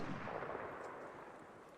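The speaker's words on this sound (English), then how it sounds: "Just got sniped at." A single sniper shot in Call of Duty MW3, a faint, distant crack that rings out and decays over about two seconds, with no talk.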